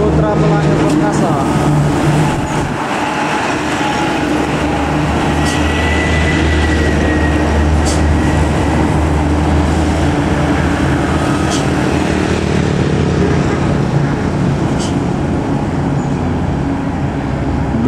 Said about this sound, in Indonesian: Bus Putra Pelangi Perkasa Scania Tronton K410 1B dari Medan memasuki Kota Pekanbaru